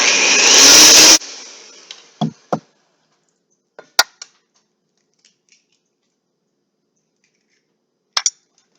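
Electric hand mixer beating eclair choux pastry dough on high speed, a loud steady whir for about a second that cuts off, followed by a few scattered clicks and taps.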